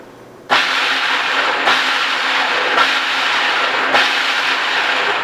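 Food processor pulsing cold pie crust dough with ice water added a tablespoon at a time, a steady loud whirring roar broken by brief dips roughly every second as the pulses restart, with no talking.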